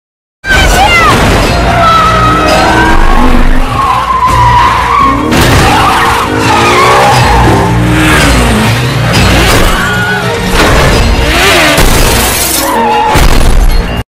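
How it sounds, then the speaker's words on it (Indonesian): Police cars chase through streets with tires screeching and skidding again and again, loud and close, broken by crashes, shattering impacts and revving engines in a continuous barrage. "Saat di perjalanan, ia lagi dan lagi dikejar oleh polisi dan Magna mengeluarkan skill mengemudinya yang hebat."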